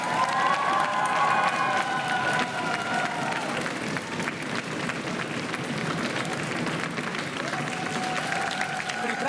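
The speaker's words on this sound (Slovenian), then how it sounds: "Bravo, aplavz za obe ekipi." A quiz show studio audience applauds both competing teams, steady dense clapping with some cheering that carries through the whole stretch, while a presenter's voice and a few tonal sounds sit over it.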